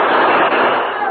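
Six-gun revolver gunfire in a 1950 Lone Ranger radio drama, heard as a dense, loud crackle of shots packed into about a second, with a voice mixed in.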